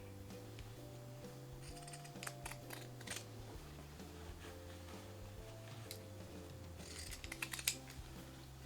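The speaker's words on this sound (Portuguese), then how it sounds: "Eu também vou cortar com a tesoura de picote aqui" Pinking shears snip through fabric in a sewing session, producing several quiet, crisp clicking cuts in short bursts over a steady low background hum, with no voices.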